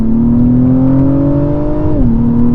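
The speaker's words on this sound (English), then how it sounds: "See, like right there, it just auto upshifted" A 2024 Acura TLX Type S engine revs loudly and steadily, its pitch climbing before dropping sharply as the transmission auto upshifts in Sport Plus mode, with the engine note continuing strongly afterward, heard up close.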